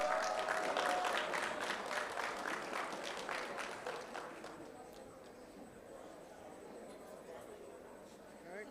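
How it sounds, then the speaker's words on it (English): A crowd at a homeownership expo raffle applauds a ticket winner with loud, busy clapping that thins and fades halfway through, leaving low murmuring room noise. "Let's give a round of applause"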